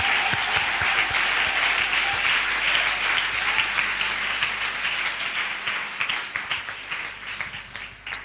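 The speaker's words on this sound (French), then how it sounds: "Oh, you can clap if you want." A church congregation claps in sustained applause, a fairly soft wash of many hands that fades gradually toward the end.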